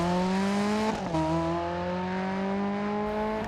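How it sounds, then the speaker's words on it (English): Opel Manta 400 rally car engine in Dirt Rally 2.0 gives a loud, steady, buzzy exhaust drone under load, with a brief dip near the one-second mark before the note climbs again. "It sounds so good, I don't really want to even talk over it, but the exhaust note, it's just amazing."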